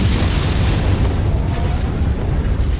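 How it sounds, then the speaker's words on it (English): Artillery explosions in MechWarrior 5, a continuous loud rumbling boom with heavy low-frequency weight and crackling debris, sustained and close throughout. "I haven't actually been hit from the artillery yet"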